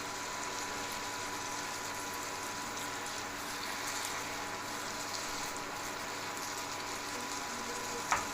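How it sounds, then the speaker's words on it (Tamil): A steady, even sizzle of goat blood frying in a pan continues throughout, with a brief clink near the end. "ட்ரை ஆகிற மட்டும் ஸ்டவ்வில் வச்சு நல்லா வதக்கணும்."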